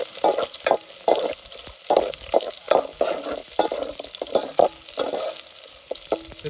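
Curry leaves crackle in hot oil for a tempering in a pot at an outdoor riverside cooking spot, with steady sizzling broken by repeated scraping stirs of a spoon.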